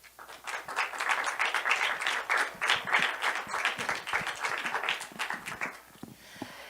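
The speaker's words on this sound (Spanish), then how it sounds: "démosle un fuerte aplauso." An audience at a live talk event gives steady applause, many hands clapping densely for about six seconds before the sound thins out and fades at the end.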